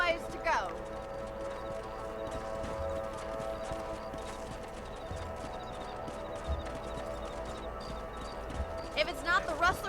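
Hooves of a horse clip-clop at a steady riding pace across a ranch in the video game Red Dead Redemption, soft and continuous beneath spoken dialogue and a sustained musical tone.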